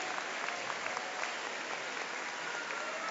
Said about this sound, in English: A round of applause for your hard-working faculty and staff that have dedicated the last 3